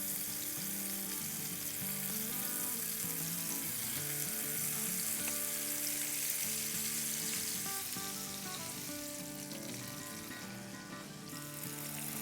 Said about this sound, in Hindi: तो यहाँ हमारी कबाबों को इसको फ्राई होते हुए ऑलमोस्ट हो गए हैं 8 मिनट के आसपास